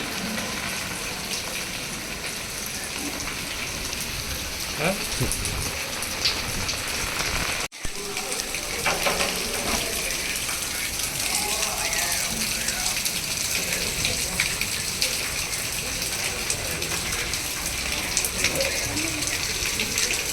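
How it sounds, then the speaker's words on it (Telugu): Water leaking from a drain and a loose tap at an SC hostel in Chimakurthi, a steady broadband trickle and patter like rain running throughout, with a brief dropout midway and voices faintly underneath. "డ్రైనేజ్లో వాటర్ లీకేజ్ చూడండి చిన్న పని పది రూపాయలు ట్యాప్ బిగించుకుంటే పోయేది"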